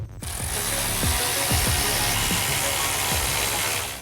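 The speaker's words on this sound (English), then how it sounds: "Tighten the hardware on the flange with a 14mm socket and wrench." A ratchet socket wrench clicks in short bursts while tightening 14mm hardware on an exhaust flange of a Ford F-150 Raptor cat-back system, with several quick pawl-click strokes close by over a steady background hum.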